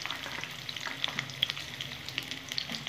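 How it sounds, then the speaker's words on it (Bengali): Aubergines frying in a pan with garlic give a soft, steady sizzle, close but fairly quiet, with scattered small pops and stirring scrapes and no talking. "বেগুনগুলো সুন্দর করে আমি ভেজে"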